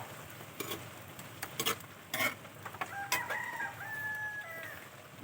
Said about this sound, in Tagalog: buksan na natin ating haluin para malambot para lumambot yung sa ibabaw